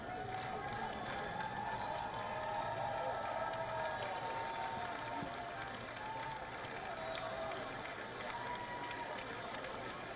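Sustained applause fills the chamber during President Joe Biden's 2024 State of the Union address, a steady dense roar of clapping and crowd noise lasting throughout, with voices mixed in.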